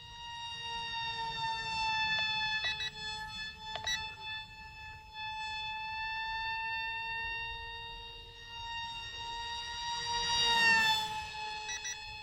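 A micro RC jet modelled on the F22 Raptor flies at full throttle, its fan giving a thin, steady, high whine. The whine holds at a fairly faint level and swells briefly louder near the end.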